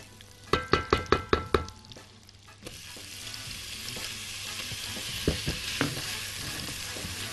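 Chopped onion going into a hot pan and frying, starting with a quick run of sharp clatters and taps, then a steady close sizzle with a few scattered knocks.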